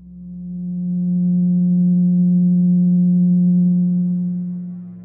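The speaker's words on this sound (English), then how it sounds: "let's listen to what the 180 total degrees contained in a triangle sound like" A pure 180 Hz sine tone sounds alone, smooth and steady, swelling gently in at the start, holding for several seconds, then fading softly away.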